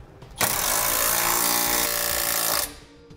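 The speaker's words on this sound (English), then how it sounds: "we'll use a 3/4-inch socket and snug these nuts on down." A power impact tool drives a 3/4-inch socket onto the nuts of a Draw-Tite trailer hitch being fitted to a 2014 Ford Edge, one steady loud burst of about two seconds with no talking.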